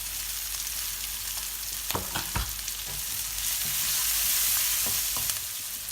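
Spices frying in a pan for a South Indian chicken curry, a continuous soft sizzle broken by a few sharp stirring knocks and scrapes, quiet and close with no voices.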